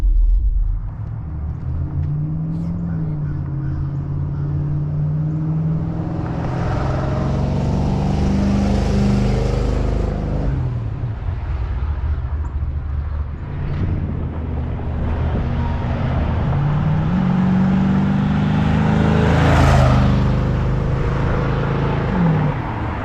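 A 1984 Chevy Silverado pickup with a swapped-in 350 V8 makes repeated wide-open-throttle drive-bys outdoors, its deep rumbling engine swelling as it approaches and passes, then fading away between runs.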